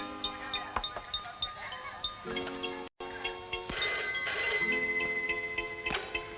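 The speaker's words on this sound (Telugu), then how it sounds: "ముందు నేను ఫోన్ చేస్తాను" A phone rings with a steady electronic tone over a noisy room, with a few sharp clicks in between.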